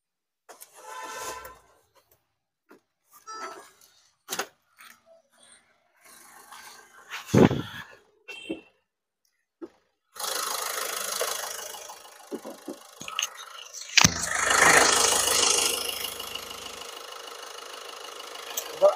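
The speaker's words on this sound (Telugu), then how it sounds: "ఇంజన్ అయితే నేను స్టార్ట్ అయితే చేస్తున్నాను ఇప్పుడు." A 2019 Ford EcoSport Titanium diesel is started: quiet clicks and knocks first, then the engine turns over and settles into a loud, rough diesel idle that swells louder near the end.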